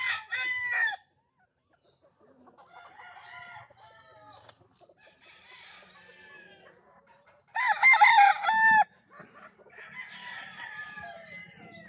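Fighting roosters at a gamefowl breeding farm crow several times: one close, loud crow at the start, fainter crows and clucks from birds farther off, then another loud nearby crow, with no talking.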